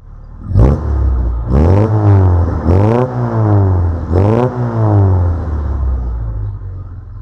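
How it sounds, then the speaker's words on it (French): A Mercedes C200 W204 engine is revved in four strong, even bursts, each rising and then falling back. The sound is loud and close throughout, with no voices. "Au niveau de sa montée en régime, donc une montée en régime vraiment stable."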